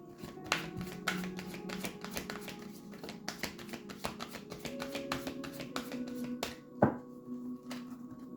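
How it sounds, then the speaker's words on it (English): A deck of tarot cards is shuffled by hand close up, with soft rapid riffling and irregular tapping and slapping of card edges, including one louder snap near the end. "One last shuffle."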